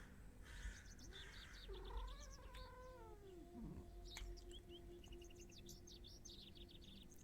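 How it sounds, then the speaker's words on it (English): A cat in a Halloween game stream gives a long, wavering caterwaul-like cry with gliding pitch, mid-distance and fairly faint, over a soft background bed with scattered chirpy sounds and no talk. "That was a very interesting noise the cat just made."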